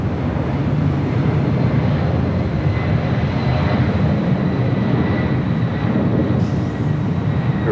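Jet airplane engines roar at LAX airport, a loud, continuous broadband rumble holding steady throughout with no voices heard.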